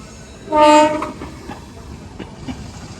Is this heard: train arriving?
yes